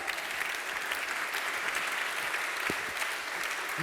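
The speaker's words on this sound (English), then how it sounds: "Please give them your applause." An audience applauds two competing teams from Czechia and Slovakia at a live event, steady dense clapping filling the whole stretch at an even, fairly loud level, with no distinct voices above it.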